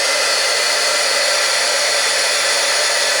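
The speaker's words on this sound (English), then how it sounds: "Stampin' Up! Heat gun, and you just turn it on and just start heating your image." A Stampin' Up! heat gun blows hot air to heat-emboss a candle, a steady, loud, unbroken electric whoosh and whine that holds without change, with no talking.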